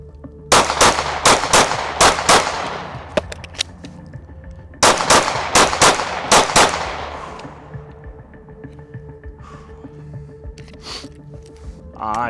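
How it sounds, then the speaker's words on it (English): Shots from a Glock 19 pistol ring out at an outdoor range during an El Presidente drill, in two rapid strings of about six sharp, loud reports separated by a short pause, followed by quieter background sounds and faint voices. "Let's go shoot."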